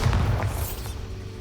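Bombarda spell blast in the Hogwarts Legacy game: one close, heavy boom with a low thud that fades over about a second.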